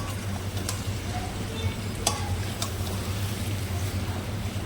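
Dried fish (shutki) and onions frying in a pan, with a steady close sizzle and occasional scraping clicks as the mixture is stirred, with no talk.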